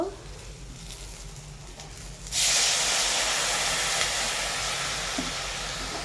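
Water goes into a pan of frying potatoes for a bitter gourd, potato and eggplant dish, bursting into a loud, sustained hiss of steam that fades slowly after a quieter sizzle.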